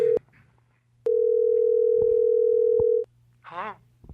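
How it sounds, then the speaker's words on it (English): A steady telephone dial tone holds for about two seconds between short clicks and hum, ending as a brief tonal chirp arrives, staged as a comedy phone call. "Can I get random phone sounds so this bit sounds real?"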